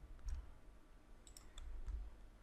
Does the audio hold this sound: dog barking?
no